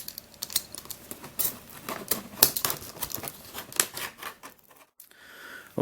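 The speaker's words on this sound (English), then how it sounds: "I was just finding it too difficult trying to slice through the package with the knife" Kitchen knife sawing and scraping at a plastic package holding a Rubik's-style puzzle cube, a run of close, irregular crackling cuts and scrapes that stops near the end.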